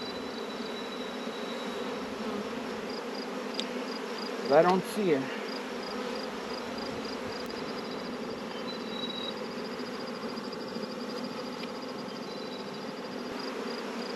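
Honey bees crowd a hive frame, their calm, steady buzz droning close and continuous throughout, with a brief spoken remark and a couple of short handling noises midway.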